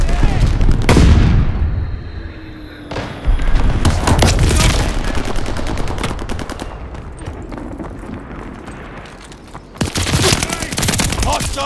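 Call of Duty Vanguard multiplayer combat: loud, dense bursts of machine-gun fire mixed with heavy grenade blasts and booms, rapid rhythmic shots running throughout with sharp explosive hits near the start and end, voices faintly under the din.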